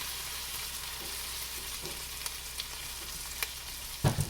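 Raw chopped onions fry in a pot with a steady, soft sizzle, broken by a few faint taps and stirring clicks and a louder knock near the end, with no talking.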